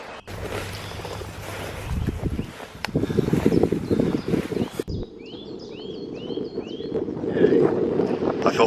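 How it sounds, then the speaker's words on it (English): Gusts of wind sweep through woodland, a broad rushing roar that builds and fades in waves over several seconds, with birds chirping faintly in the background later on. "here comes the wind"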